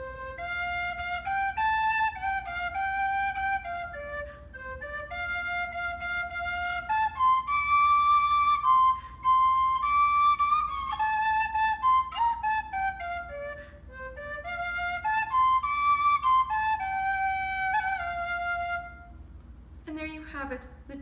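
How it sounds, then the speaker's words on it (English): A tin whistle plays an unhurried folk melody of stepping and sliding notes, close and clear, for about twenty seconds without any talking. "And there you have it, the tin whistle."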